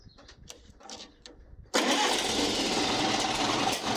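An old Oliver or Minneapolis Moline tractor engine cranks and catches after some faint clicks and handling noises. It then settles into a loud, steady, close running roar.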